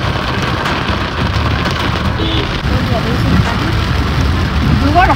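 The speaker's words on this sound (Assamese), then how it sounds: "ইমান বৰষুণ একো দেখিয়ে নাপাইছো ভিজিবিলিটি কমি গৈছে" Heavy rain pours steadily during a flood-stricken downpour in Dibrugarh, a dense, continuous broadband hiss of drops close by, with faint traffic sounds mixed in and no voices.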